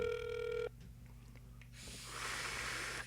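A telephone rings on the line during a prank call to a tire and lube shop: one loud electronic ring, then a hiss of line noise and breathing.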